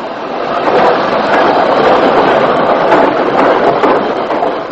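Steam locomotive 62673, a Director class engine, crosses the other Forth Bridge on the Alloa branch heading south: a loud, continuous rumble and rattle of train wheels, with faint rhythmic clicks running underneath.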